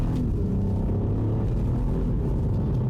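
A BMW 220i Active Tourer hybrid accelerates with a steady, loud low rumble throughout, heard from inside the car with no talk.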